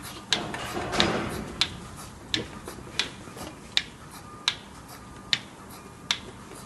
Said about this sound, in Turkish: Mekine'nin sesinden dolayısıyla verdiğimiz rahatsızlıktan kusura bakmayın lütfen.